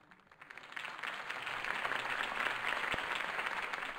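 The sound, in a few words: crowd applause in a video game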